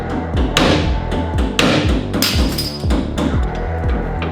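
A hammer repeatedly whacks a car's ball joint in a garage, with sharp, loud metallic blows landing about every second alongside ringing clatter, close up and with no talking.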